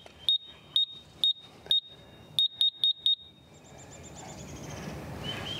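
A Ghost Controls gate opener control box powers up with eight sharp, high electronic beeps in an uneven quick series, followed by a soft hiss of background noise.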